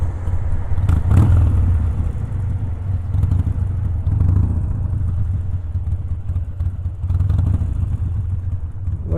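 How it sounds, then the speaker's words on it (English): An air-cooled Harley-Davidson EVO V-twin motorcycle engine runs steadily while riding, a loud continuous low rumble with wind noise throughout and no talking. "This EVO engine,"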